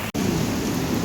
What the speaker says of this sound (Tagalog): Medyo palakas ng ulan. Palakas ng ulan at yung mahangin na rin.